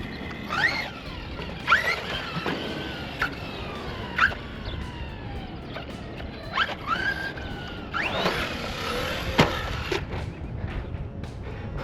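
A Team Associated MT8 RC monster truck bashing outdoors, its electric motor whining in repeated rising and falling high-pitched sweeps as it speeds up and slows, with scuffs and thumps from the tires and landings.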